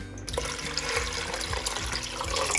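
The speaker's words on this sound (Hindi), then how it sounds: "इसमें 2 ग्लास मैंने पानी डाल दिया है।" Water pours steadily into a pressure cooker holding soaked moong and masoor lentils, a continuous close splashing and gurgling fill that runs without pause and without talk.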